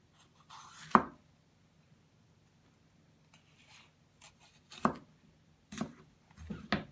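A knife cutting through a bell pepper on a cutting board, giving a few separate crisp slicing thuds with quiet gaps between them, close and alone.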